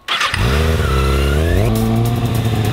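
A video game motorcycle engine revs loudly and steadily, pitch climbing and settling in a continuous drone with a sharp rise near the middle.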